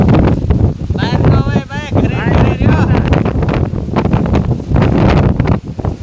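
A strong cyclone wind with no rain blows dust through Bajud, roaring and buffeting hard against the microphone close up while someone talks over it.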